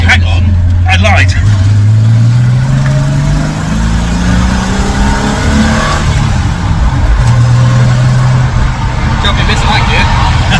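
A Reliant Scimitar's engine drones and climbs through the gears while driving, with rising and falling revs and a missed-gear pause, loud and close. It may be running down on power. People talk and laugh over it.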